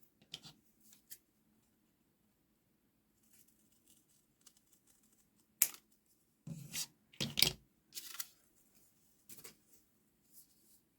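Scissors snip through paper along a line to cut out a star shape, a few sparse, quiet crisp cuts clustered together after a near-silent stretch, close by with no talking.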